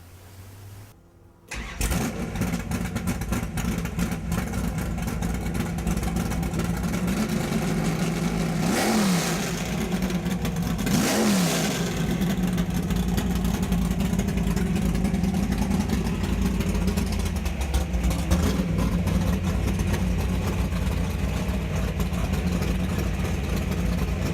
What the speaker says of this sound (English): When it comes to a car with a lot of noise, John, you have it.